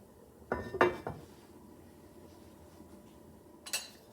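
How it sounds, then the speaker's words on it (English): Utensil clanks against a soup pot during a quick stir of navy bean soup, followed by a metal lid settling back on; a few sharp clinks near the start and one more at the end, with quiet between. "Give it a quick stir. And put my lid back on."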